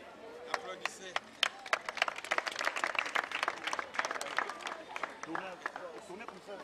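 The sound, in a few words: children applauding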